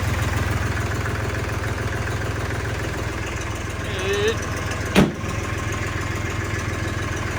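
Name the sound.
Farmtrac 47 tractor engine idling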